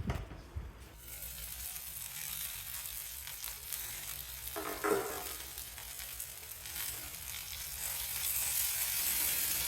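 Whole brinjals frying slowly in oil in a pan over a low flame on a large burner, giving a soft, steady sizzle that holds at a low level throughout with no voices.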